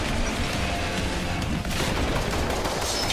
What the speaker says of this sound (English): Skiing and shooting at the same time in VR.